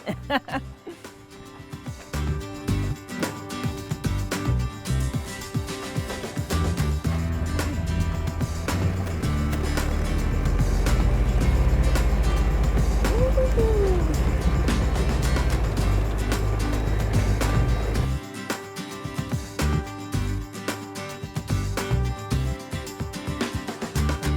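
A hay ride wagon rolls through a field in New Haven, giving a steady low rumble from wheels and a towing engine that builds through the middle and eases off near the end, with people talking over it.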